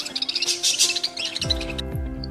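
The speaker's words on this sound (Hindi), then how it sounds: "वो देखो चिड़िया के बच्चे चीं चीं करके उसे बुला रहे हैं।" Baby birds chirp rapidly and repeatedly, calling for their mother, with high, bright tweets close by that thin out after a moment over a low background hum.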